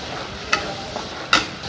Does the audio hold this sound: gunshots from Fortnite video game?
no